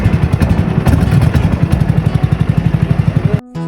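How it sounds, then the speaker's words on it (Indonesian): A boat's outboard engine, started with a single pull of its cord, chugs at a fast steady idle close by, loud and rhythmic, then cuts off abruptly near the end. "Sekali tarik langsung bunyi tuh mesinnya."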